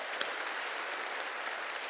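A church congregation claps together during a sermon, a steady wash of applause at a moderate distance with one sharper clap standing out near the start.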